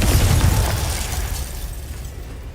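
In the Hogwarts Legacy video game, a Confringo blasting spell goes off as a loud, booming explosion with a heavy low rumble that fades away over a couple of seconds.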